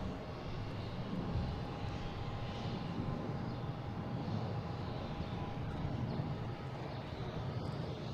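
An American Airlines Embraer E175 jet on arrival from Syracuse into Boston Logan makes a steady, moderately loud broadband engine roar with a faint whine, holding level throughout without talk.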